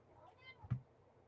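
A pet cat gives a brief, faint meow, a single short call rising out of a quiet room.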